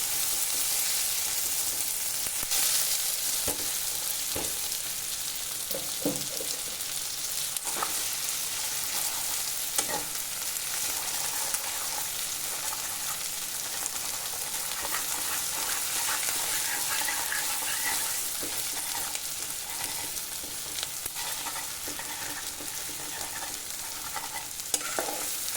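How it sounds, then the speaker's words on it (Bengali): Fish roe fritters with whole potatoes are stirred continuously in hot oil, a steady bright frying sizzle over the whole stretch with scattered clicks and scrapes of a spatula against the pan, no voices. "তেলের মধ্যে ওটাকে অনবরত নেড়ে যেতে হবে"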